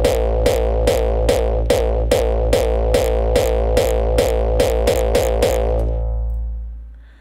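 Hardstyle kick attack from a Drumazon drum machine VSTi with lengthened duration, fast repeated punchy hits blending into a continuous droning, distorted tone that rings out and fades at the end, loud and up front.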